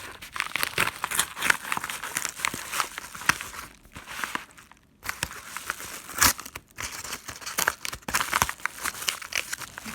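Product packaging for a Woodland Scenics Tidy Track wheel cleaning system being torn open by hand, close and loud, with continuous crinkling, crumpling and ripping of plastic and cardboard, broken by a couple of brief pauses.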